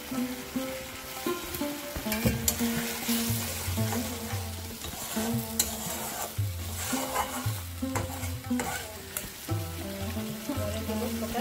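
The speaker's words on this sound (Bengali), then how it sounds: "এবার আমি আলুগুলো দিয়ে দেবো।" Potatoes fry in a spice paste for a broccoli and prawn poppy-seed dish, with a steady sizzle under repeated scraping strokes of a spatula stirring the pan, close and moderately loud.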